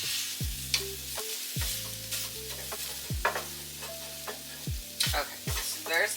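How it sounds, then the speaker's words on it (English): Ground meat crushed and stirred in a hot pan for meal prep, a steady sizzle of frying under repeated scraping, tapping strokes of a utensil against the pan, close and fairly loud, with no talking. "Just going to crush up the meat."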